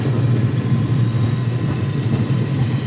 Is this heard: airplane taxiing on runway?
yes